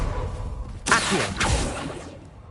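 An Accio summoning spell in Hogwarts Legacy whooshes with a bright swish, following a second softer swoosh, set against a low game ambience without talk.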